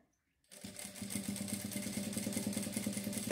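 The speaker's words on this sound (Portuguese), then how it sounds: "Eu dobro ele pra cima e passo uma costurinha de reforço bem na beiradinha." Sewing machine stitching a short reinforcement seam along a folded bias edge of a girl's child blouse, a steady rapid mechanical whir starting after a brief silence and running evenly and close.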